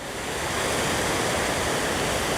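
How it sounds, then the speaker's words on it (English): Aysgarth's lower falls, the tallest of the Aysgarth waterfalls, pour in a steady, broad rushing roar that holds close and unbroken throughout with no voices. "These are the lower falls, the tallest of the Aysgarth waterfalls."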